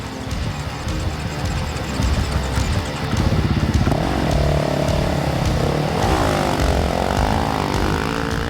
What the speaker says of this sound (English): While pushing through the sand, you can leave it in gear and turn the starter for some help from the bike.